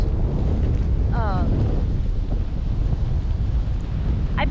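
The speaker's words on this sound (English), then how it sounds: "I don't need this wind. This wind seems unnecessary to me." Strong wind buffeting a microphone outdoors, a constant low rumbling roar throughout with a brief faint call over it.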